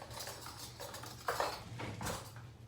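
Metal cutlery clinks and rattles in a kitchen drawer as a spoon is picked out, a few soft close jangles over a low steady background hum.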